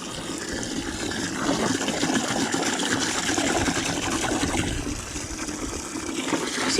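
Water runs steadily and splashes over freshly caught smelt being rinsed of sand, a close, continuous gushing wash that swells slightly in the middle.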